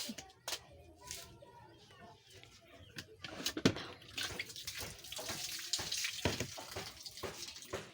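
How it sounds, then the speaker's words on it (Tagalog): Water runs and splashes into a basin, growing louder and steadier in the second half, with some handling clatter and faint background noise. "And lagyan natin ng tubig."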